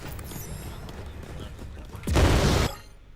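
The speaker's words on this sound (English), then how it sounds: "Oh, the explosion was too close." A close, loud explosion bursts in the Dark Deception video game, a dense roar lasting about half a second that ends abruptly. Clatter and gunfire-like noises come before it.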